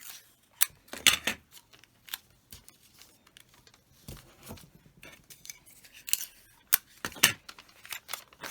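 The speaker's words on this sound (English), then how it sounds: "So what I'm going to have to do is cut this little corner here off" Scissors snip a small corner off a sheet of paper, giving several short, sharp cutting clicks and scrapes spread across a quiet background, close and fairly faint, with no voices.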